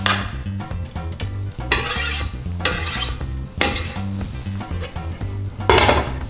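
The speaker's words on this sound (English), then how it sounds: "This is kinda heated. Let's put the onions." Onions frying in a hot pan for a broccoli casserole, heard as repeated bursts of loud sizzling mixed with rasping, scraping stir sounds, close up and without speech.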